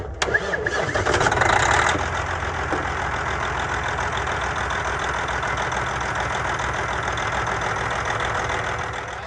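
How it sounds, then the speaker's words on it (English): Truck engine cranked by bridging the two large starter solenoid posts, catching with a loud burst and then settling into a steady, close idle that runs alone throughout. "All you do is just touch the two larger posts and your starter activates."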